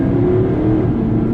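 A Porsche Panamera 4S Diesel in Sport Plus mode pulls hard on the road, its engine droning loudly and steadily from inside the cabin with a deep, even hum.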